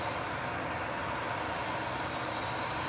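Airliner taxiing down to the main turning circle at the end of the runway at Manchester Airport, a steady, continuous broadband engine roar with no breaks, fairly loud and heard alone.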